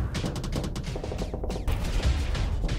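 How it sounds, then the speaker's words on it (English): Experimental missiles launch in a space combat battle in Starsector, heard as a rapid run of sharp, rattling bursts close together, a dense volley that stays fairly steady and then swells slightly near the end. No voices. "Experimental missile, go!"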